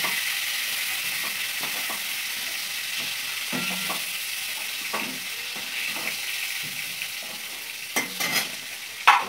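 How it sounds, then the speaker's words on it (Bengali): Cauliflower florets coated in salt and turmeric fry in a pan with a constant sizzle, punctuated by intermittent stirring scrapes and clinks that grow louder toward the end, with no voices. "কপিগুলো আগে নুন হলুদ মাখিয়ে রেখেছিলাম, এবার ভাজবো।"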